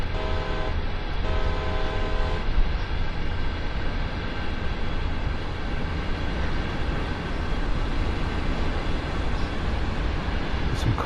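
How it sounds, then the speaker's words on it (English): A passing train in Train Sim World 2 on Sand Patch Grade, a loud steady rumble of wheels and engine that holds throughout, with a short horn toot near the start. "Here comes another train"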